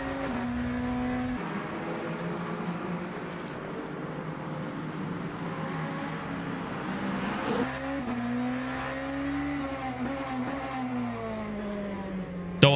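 BMW hypercar engine in Le Mans Ultimate racing game, a loud continuous engine drone rising and shifting pitch through gears as it accelerates, steady and close throughout.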